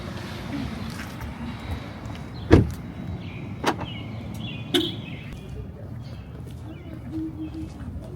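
A car door or window in an open parking lot thumps shut as one loud sharp knock, followed by two softer clicks, over steady outdoor background with birds faintly chirping.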